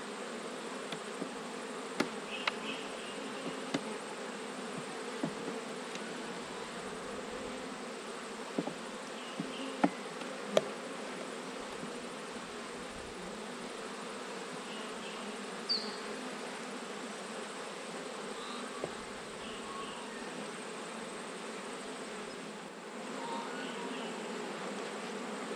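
Honeybees from a weak blue hive buzzing close by in a steady, low drone, with scattered clicks from handling the hive frames.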